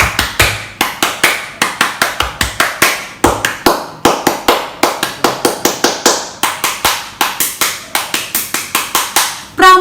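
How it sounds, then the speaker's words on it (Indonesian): A group of scout children clapping the Pramuka rhythmic clap, sharp close hand claps in quick patterned bursts, repeated in three rounds with short pauses between, loud and without speech. "kita bersama-sama 3 kali tepuk pramuka sekali lagi"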